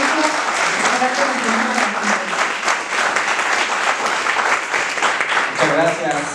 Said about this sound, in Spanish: Por favor, reciban con un fuerte aplauso a los invitados.